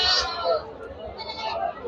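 Goats bleating at a busy goat market where animals are tied together for sale: a couple of short, close bleats rise over a continuous murmur of people talking nearby.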